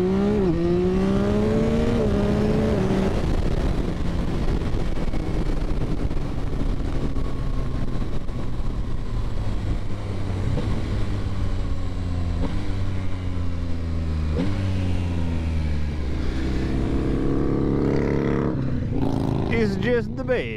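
A 2022 Yamaha XSR900 motorcycle engine revs and accelerates hard through several gear changes, pitch climbing and dropping in repeated sweeps, loud and close, with someone talking over it at times.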